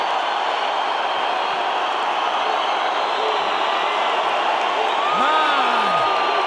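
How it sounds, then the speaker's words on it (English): Large arena crowd at a UFC fight roaring and cheering continuously, a dense sustained wall of voices with whoops rising near the end. "the crowd are going absolutely crazy"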